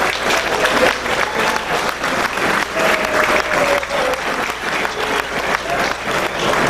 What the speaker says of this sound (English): Can I hear another round of applause for our speakers